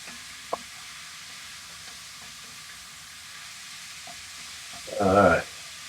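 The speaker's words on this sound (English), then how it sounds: "We're going to be stirring it around and mixing it up like this for 8 to 10 minutes." Meat for Italian dirty rice stirred in a pan, with a steady low sizzle, a small click early on, and a short scraping burst of the spoon near the end.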